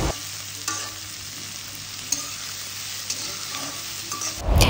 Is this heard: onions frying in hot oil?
yes